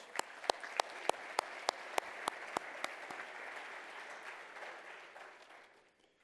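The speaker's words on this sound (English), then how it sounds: "let's give them a big round of applause" Applause fills a large hall at a business hall of fame gala, with a dozen sharp, regular claps ringing out near the start over a broad crowd wash that fades away by the end.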